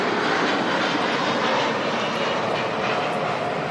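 A fixed-wing airliner departs from Manchester Airport, its engines giving a loud, continuous roar with a broad rumble that holds steady throughout, with no voices over it.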